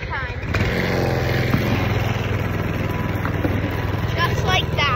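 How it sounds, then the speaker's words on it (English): A dirt bike engine drones steadily and loudly as the rider opens the throttle and pulls away, a buzzy continuous roar that holds from start to finish. "how you move is you pull the throttle, and you sit on it, move the throttle slowly if it's the first time"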